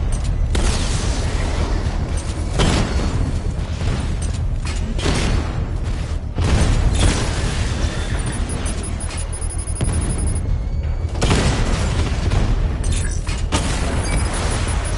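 Dense, continuous battle noise in Batman: Arkham Knight: booming explosions and heavy gunfire pound away nonstop at high volume, with sharper bursts scattered throughout.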